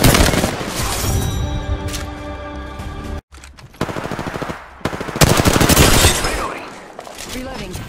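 Automatic gunfire in Apex Legends, loud rapid bursts of shots in several volleys with a brief pause between, heavy and close, with game sounds mixed in.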